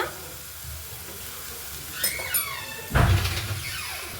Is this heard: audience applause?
no